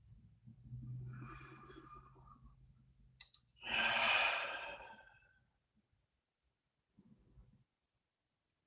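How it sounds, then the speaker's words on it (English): Slow, deep breathing during a guided meditation: a long soft inhale followed by a louder, breathy exhale, then quiet and a faint short breath near the end, close and intimate with no speech. "We're going to breathe deeply."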